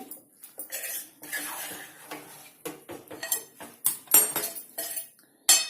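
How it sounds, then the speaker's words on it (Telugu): A pot of tomato and dried-prawn curry is stirred with a metal spoon, making irregular clinks and scrapes against the pot, ending with a sharper clatter as a lid is set on top; no one speaks. "ఇది ఒకసారి మంచి కలిపేసుకోండి కలిపేసుకొని మూత పెట్టుకోవాలి"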